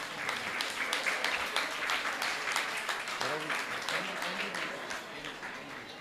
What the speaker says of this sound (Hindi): आपकी तालियां सम्मान के रूप में निरंतर बजती रहनी चाहिए